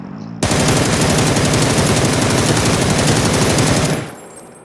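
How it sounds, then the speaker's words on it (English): Rapid automatic gunfire in the shooting game PUBG, a loud continuous burst lasting several seconds before cutting off abruptly. "You're shooting all your bullets at nothing."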